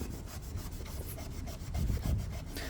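A HOLEX rust eraser is rubbed back and forth over a rusty outdoor knife blade, making a soft, steady, gritty scrubbing close up that grows a bit louder toward the end, with no talk.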